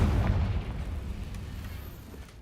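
A Confringo blasting spell explosion in Hogwarts Legacy: a loud, heavy boom right at the start that rumbles and slowly decays over a couple of seconds.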